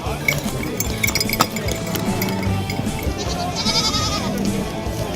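Goats and sheep bleat in the livestock section of an Albanian agriculture fair, several wavering calls overlapping above a steady murmur of crowd noise and faint clinks.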